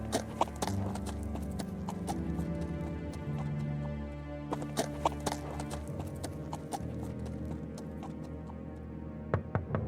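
Horse hooves clip-clopping in the Miss Clue: Trials of Salem video game, a steady run of hoof strikes over a continuous musical or ambient bed, moderately loud and close.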